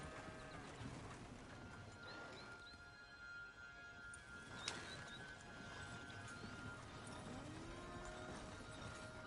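In Red Dead Redemption 2, a horse pulls a wagon with steady clip-clopping hooves over a continuous rolling rumble, joined by faint birdsong, tonal whinny-like calls and a brief sharp knock midway.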